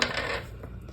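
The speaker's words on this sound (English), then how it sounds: "let's roll the astro dice" Astrology dice rolled, a quick bright clatter at the start fading into a brief rattle as they settle, close and alone.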